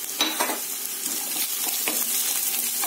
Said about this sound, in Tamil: இதை மிக்ஸ் பண்ணிக்கோங்க.